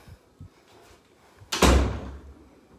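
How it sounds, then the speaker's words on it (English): A kitchen door in a house being viewed swings shut with a single loud, close thud and rattle, its low boom fading over about a second after a few soft preceding knocks. "I'll shut this door so you can see more of the kitchen."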